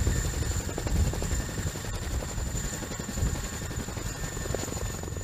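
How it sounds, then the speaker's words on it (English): Chinook helicopter with its engines running at full blast, a continuous heavy rotor throb and low rumble with a steady high whine on top, loud and unbroken for five seconds. "This is when a pilot places the rear section of the helicopter onto a mountaintop or other raised area while keeping the engines running at full blast."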